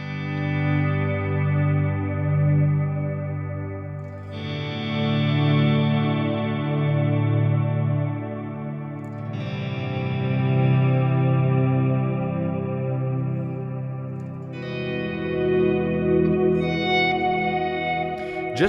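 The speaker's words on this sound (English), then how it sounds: "if I combine it with the Strymon timeline on ping pong mode like this" Electric guitar through a Strymon Timeline set to ping pong delay and a Big Sky reverb, slow swelling chords that bloom and overlap into a wide, washing ambient tail, three long swells with no talking.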